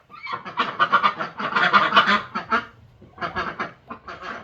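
Loud, nearby honking and quacking calls from several ducks in rapid bursts, a short pause, then more calls.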